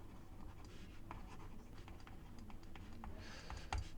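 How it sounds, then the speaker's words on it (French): Pen or chalk strokes scratch steadily across a surface as math is written out by hand, soft irregular scraping and tapping at close range, low under a faint background hiss. "je vais écrire longueur du côté"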